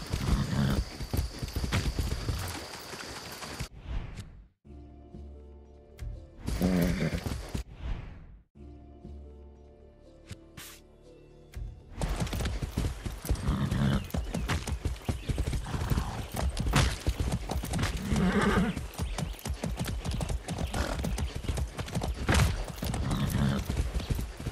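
In the video game Far Cry 6, a horse gallops with steady, loud clip-clop hoofbeats and whinnies, the hoofbeats breaking off briefly before resuming as a continuous drumming run, with game sounds mixed in.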